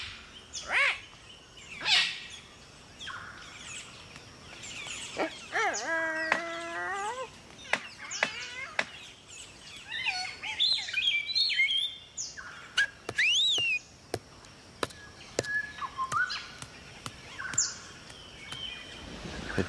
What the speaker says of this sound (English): The hello call they make is part of the display.